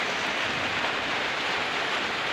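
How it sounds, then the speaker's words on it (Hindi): Steady rain falls in a broad, even hiss of drops hitting surfaces. It sounds close and constant throughout, with no voices. "बारिश हो रही है"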